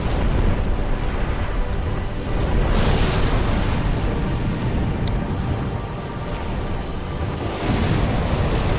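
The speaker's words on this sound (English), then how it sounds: "His fireballs explode so much, too." Fireballs from a boss in the Dark Souls 2 Crown of the Sunken King DLC burst one after another in a dense, continuous roar of booming blasts with no pause or voice over it.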